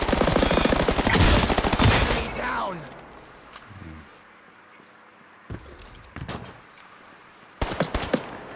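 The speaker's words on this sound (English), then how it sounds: "Headshot with a pistol close was pretty nice." Pistol shots ring out in the shooter game Off The Grid, a dense burst of close gunfire over the first two seconds. Sparse clicks and short bangs follow, and voices talk softly underneath.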